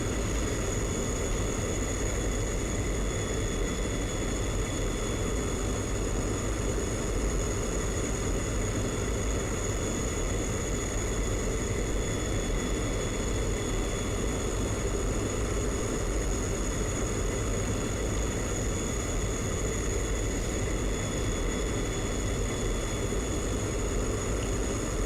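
A jet at full afterburner in the DCS flight simulator gives a steady, loud, broadband roar with a high whine on top, constant and unbroken throughout, with no voices.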